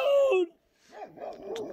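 Dogs guarding a flock of sheep bark and yip at night, a sharp close bark followed after a short pause by several fainter, wavering yelps and whimpers.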